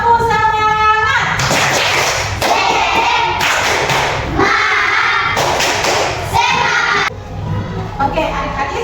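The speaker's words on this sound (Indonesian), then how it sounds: "supaya lebih semangat kita tepuk semangat dulu" A group of children in a lesson perform the tepuk semangat rhythmic clap, with loud patterned bursts of clapping and thumps mixed with their shouted chanting, close and energetic throughout.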